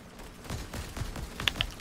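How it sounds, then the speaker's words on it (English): Gunfire in the Fortnite video game, a short burst of sharp shots with a couple of brighter cracks near the end, fairly faint in the game mix. "There's gunfire."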